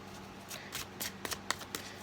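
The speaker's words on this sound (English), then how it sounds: "I gotta get better at shuffling these cards though" A deck of cards being shuffled by hand, with a series of soft riffling bursts and sharp flicks about every quarter second, quiet and close, no talking.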